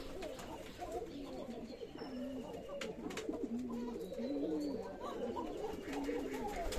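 Doves coo softly in repeated low, rolling phrases, several calls spread across the stretch over a faint background hiss, with no talking.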